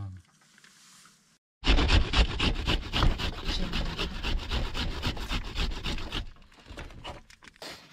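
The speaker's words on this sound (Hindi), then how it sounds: "और साथ में कद्दूकस हो रहा है प्याज" Onion being grated on a kitchen grater at a forest campsite, a rapid close rasping scrape in steady strokes that starts abruptly and runs for several seconds before stopping, with voices faintly present.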